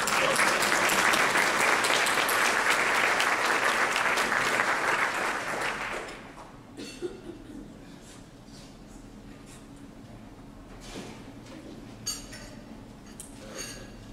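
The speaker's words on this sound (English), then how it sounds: "I think that deserves a round of applause." An audience at an awards presentation during a technology industry conference claps steadily and loudly for about six seconds, then the applause cuts off, leaving quiet room tone with a few faint knocks and shuffles.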